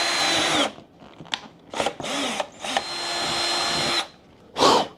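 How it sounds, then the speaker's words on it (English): A power drill whines in loud bursts, drilling a hole for a Corvette C7 front splitter installation, stopping and starting several times with short pauses, then a final brief spin-up. "I got to drill a hole and run that"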